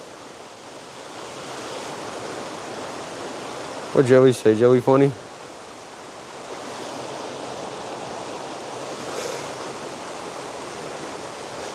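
Creek water with an orange tint rushes downstream and splits around rocks, a constant broadband wash with wind buffeting the microphone, interrupted briefly by someone speaking over it.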